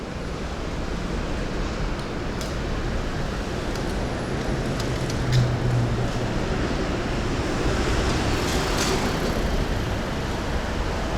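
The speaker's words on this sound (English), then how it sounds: "We can't hear you, the road is too loud." Heavy road traffic on a Tokyo street at sunrise makes a loud, steady broadband roar that never lets up, with faint passing swells and no one speaking.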